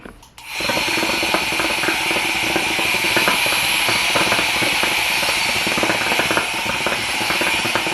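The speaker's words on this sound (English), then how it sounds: "You guys, I finally got a hookah blower. So this pretty much starts the hookah before you do" An electric hookah blower runs steadily after a brief start, giving a loud continuous whirring hiss with faint rattling throughout, and no talking over it.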